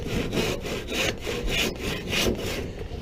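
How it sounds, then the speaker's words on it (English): Rhythmic rasping strokes of a hand saw cutting wood pieces for a small picnic table, about a dozen even back-and-forth passes, close and steady with no talking. "Use the whole saw if you can."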